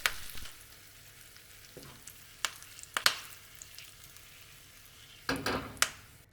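Asafoetida, turmeric powder and curry leaves sizzle in hot oil for a tempering, a quiet steady crackle punctuated by a few sharp spatters and stirring clinks.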